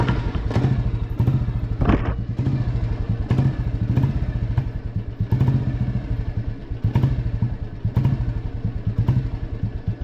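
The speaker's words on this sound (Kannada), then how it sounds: "ಸೊ ಗಾಡಿ ಹೇಗೆ ಆನ್ ಮಾಡೋದಂತ ತೋರಿಸ್ತೀನಿ ನೋಡಿ." A Royal Enfield Lightning 535 single-cylinder motorcycle idles close by after starting, a loud, steady thumping beat with rhythmic clattering pulses and occasional heavier thuds, with no talking.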